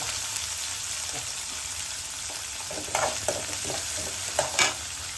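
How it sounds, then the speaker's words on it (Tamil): Onions and curry leaves saute in a pan for wheat rava upma, a steady close sizzle with a few scraping stirs toward the end and no voices. "இந்த நேரத்தில் வெங்காயத்தையும் கருவேப்பிலையும் ஒன்றா சேர்த்து போட்டுக்கலாம். இப்போ இந்த வெங்காயம் கொஞ்சம் வதங்கணும்."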